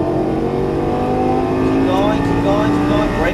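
A Lamborghini Gallardo LP550-2 at full throttle, its engine drone rising steadily in pitch as it accelerates, loud and close, with an instructor's voice over it.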